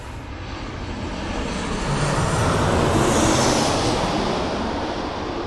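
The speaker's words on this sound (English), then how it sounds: "Right, almost over the top. Very short final. Jet2 in from Venice." A Jet2 airliner arriving from Venice passes close overhead on very short final into Birmingham Airport, its engines a loud, broad, steady roar that builds to a peak and holds, with no talking over it.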